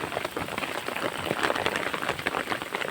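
Steady, dense rain falls on surfaces in a hill village, a continuous close hiss of drops with no break and no voices.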